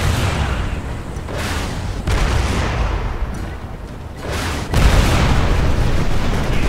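Loud gunfire and heavy booms from the game Crysis blast in dense bursts, with sharp hits cutting through a constant roaring rumble.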